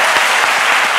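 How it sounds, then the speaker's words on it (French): A studio audience on a midday French-language talk show gives a short burst of dense, loud clapping with no voices over it. "Applaudissements pour lui encore une fois"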